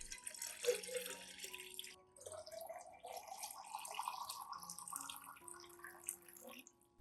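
Water being poured into a garlic and vitamin B1 orchid fertilizer solution, a continuous close splashing stream lasting several seconds with some gurgling, heard alone without talk.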